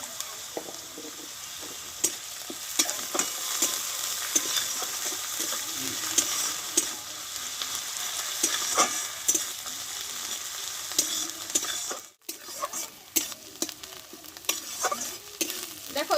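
Coriander leaves sizzle in a pan with a pinch of turmeric, a steady frying hiss broken by frequent scraping stir strokes, a brief pause near the end, then clattering stirring resumes.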